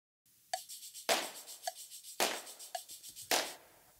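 Tambourine jingles and shaker, brightened through a parallel exciter, alternating in a steady rhythm: bright bursts of jingle mixed with short, rustling shaker shakes, fairly quiet and alone.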